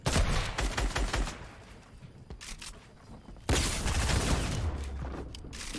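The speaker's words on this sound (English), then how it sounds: "Someone's shooting." Gunfire in the Fortnite video game, with bursts of rapid shots and scattered single cracks at moderate distance, a short lull, then a denser stretch of firing, with no speech over it.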